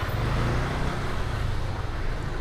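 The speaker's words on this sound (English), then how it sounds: "Just cars coming from everywhere." Dense car and motor traffic on a small street in Thailand, a steady close rumble of engines passing continuously with no pauses, no voices over it.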